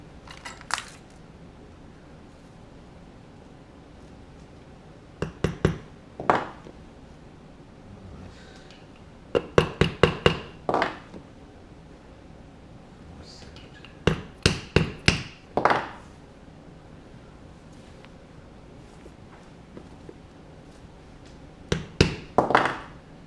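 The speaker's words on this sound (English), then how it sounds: "And I'll put in the first" A rivet is set into a leather bag with a hammer, producing short bursts of sharp metallic taps in quick clusters separated by pauses, close and distinct in an otherwise quiet room.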